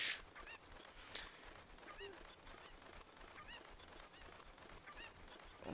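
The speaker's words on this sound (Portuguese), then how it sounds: "vou pegar essa galinha aqui" A cucco chicken in the video game Zelda: Ocarina of Time gives repeated short honking clucks over a steady game background, the calls recurring through the passage.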